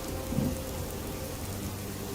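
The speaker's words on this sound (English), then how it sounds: "Hell of a thunderstorm." Heavy rain pours down during a thunderstorm in Fallout 4, with a low rumble of thunder rolling underneath a dense, even hiss of downpour.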